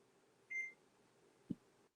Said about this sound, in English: my microwave is beeping at me